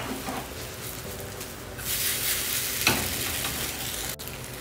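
Dried mint stirred and fried in a pan for instant noodles gives a steady bright sizzle with scraping stir sounds, close and continuous, with no talking.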